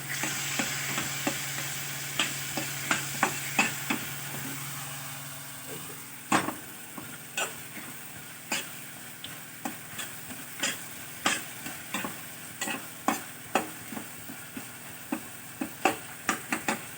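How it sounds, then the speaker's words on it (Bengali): Tomato cooks down with water in a frying pan for a paneer niramish korma, under a low simmering sizzle, while a spoon stirs and scrapes the pan in regular close clicks throughout. "আমি টমেটোটাকে একটু জল দিয়ে গলিয়ে নিচ্ছি।"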